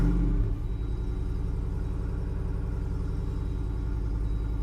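A 2025 Jeep Wrangler Rubicon 392 with a Hemi V8 and performance exhaust rumbles loudly at close range, a brief rev at the start settling into a steady, deep idle burble.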